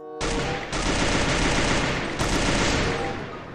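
SKS rifle fire in the Free Fire video game, loud dense bursts of gunshots that start sharply and continue in a sustained barrage, with a second burst starting midway.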